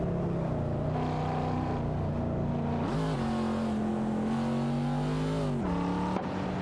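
Racing car engines from a BMW M3 E46 GTR and a Lexus LC500 in a racing game, a loud sustained droning roar that shifts pitch as the cars accelerate and change gears, with no voices.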